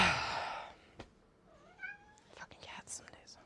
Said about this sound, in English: that was a great big yowl, and then all I could hear was Dahlia runnin